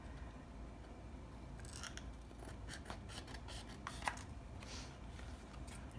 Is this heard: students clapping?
no